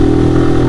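A Zontes G1X 125cc motorcycle engine with a performance air filter runs with a steady, throaty rumble, close and loud, holding an even idle without revving.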